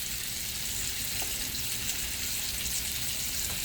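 About three tablespoons of butter sizzling steadily in a cast iron pan with steak, a close, continuous hiss and crackle with no talk.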